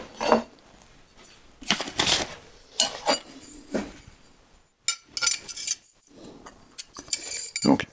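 Metal parts of a Lie-Nielsen hand plane's cutting assembly clink and clatter as they are refitted, a series of close, sharp metallic taps and scrapes with short pauses between them.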